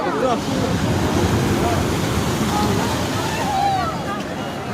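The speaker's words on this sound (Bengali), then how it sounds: "লয়বাবু পেয়েছে একটা অদ্ভুত খেলা, বলছে বা আমি ঢেউগুলোকে টানছি, আমি টানলেই ঢেউগুলো আমাদের কাছে চলে আসছে।" Sea waves wash continuously onto the beach at Digha, a broad, close surf roar with wind buffeting the microphone.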